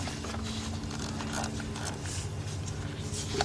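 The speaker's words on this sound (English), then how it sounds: "So let's take off this one bolt." A bolt being loosened from the 2.5 engine of a 2000 Mercury Cougar, a steady, close mechanical creaking and ratcheting grind that runs without a break, with no talking.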